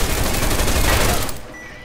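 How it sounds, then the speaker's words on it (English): Rapid burst of armor-piercing gunfire shredding a turret in the video game Deus Ex: Mankind Divided, a loud dense fusillade that cuts off after about a second and a half into quiet. "Here we've used an EMP frag grenade to disable the turret and armor-piercing bullets to destroy it."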